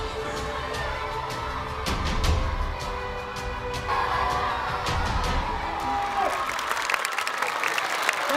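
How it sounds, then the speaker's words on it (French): An audience at a school event cheers and applauds steadily, with whoops and children's shouts rising over the clapping throughout. "Applaudissez très fort les amis, applaudissez."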